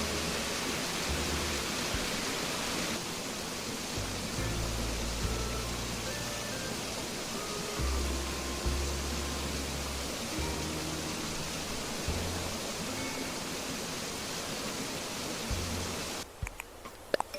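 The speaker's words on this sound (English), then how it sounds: "Just wanted to give you a taste of that cool waterfall ambience" Continuous rushing waterfall ambience, a dense steady roar of falling water with faint musical tones beneath, cutting off abruptly near the end.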